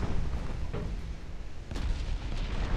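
Warship guns shelling houses in the naval game Ultimate Admiral Dreadnoughts, a steady low rumble punctuated by a few sharp booming shots, with no talk over it.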